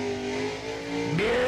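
Hot rod engines at a drag racing bracket event idle with a throaty rumble at the start line, then one revs sharply upward near the end, loud and close.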